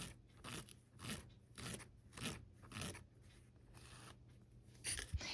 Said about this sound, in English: I'm just going to take any marker that I have and mark that.